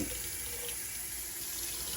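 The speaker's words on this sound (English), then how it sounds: "So you can just let the water pour out." Water runs steadily from a tap, a continuous rushing splash into a bowl of pinto beans, close and uninterrupted.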